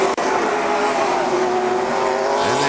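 Late model race cars race at KilKare Speedway, a loud continuous roar of engines at full throttle with a brief tire squeal near the end and no voices.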